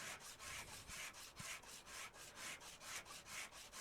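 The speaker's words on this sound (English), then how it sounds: "Every day I'm sanding cars." A car bumper being sanded in the video game Car Dealer Simulator, a rhythmic back-and-forth rasping of about a dozen quick strokes, close and steady with no talk.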